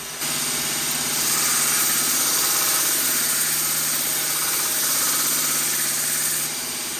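A grinder running on a bushcraft knife blade, a loud steady whine with a faint grinding rasp over it for several seconds before it stops, no talk.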